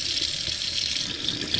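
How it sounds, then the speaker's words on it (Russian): Tap water runs in a steady gushing stream straight into the drain of an old sink after a drain-cleaning product, a close, continuous splashing rush with no voices. "я направила струю прям в слив."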